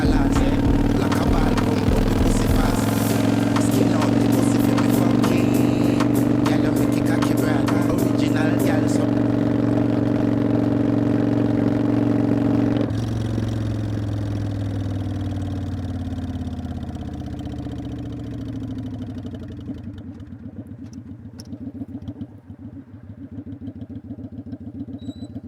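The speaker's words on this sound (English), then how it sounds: "how do you like the sound of the exhaust?" A customized Kawasaki Vulcan 900 or Yamaha V Star 1300 cruiser motorcycle idles nearby with a deep, throbbing aftermarket exhaust rumble; the engine holds steady, then the sound drops off and fades lower while a person talks over it.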